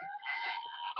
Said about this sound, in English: Is that turkey chicken?